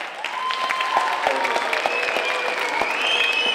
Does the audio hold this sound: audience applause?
yes